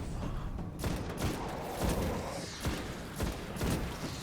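Repeated gunshots in Destiny during the Winter's Run Nightfall strike, fired at a tough level 11 captain: a steady series of punchy blasts over a dense, noisy battle bed, with no talking.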